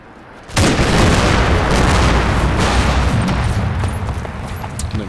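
A sudden loud onset of sustained rifle gunfire in Combat Mission: Battle for Normandy, dense overlapping shots and booms rolling on for several seconds.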